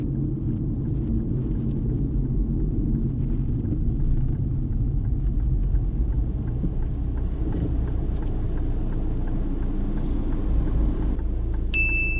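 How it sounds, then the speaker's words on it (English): A learner driver's car brakes late and hard during a driving test, with a steady low engine and road rumble running throughout and a brief sharp tone at the very end. "Here Daljit starts braking a bit too late, so the stopping is quite harsh."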